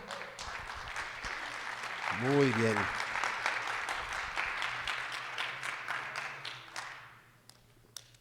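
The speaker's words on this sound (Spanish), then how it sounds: "¿Le da un aplauso a Dios por eso?" Church congregation applauding God during a Spanish-language sermon, a steady mid-level clapping that runs for about seven seconds beneath a voice and then fades out.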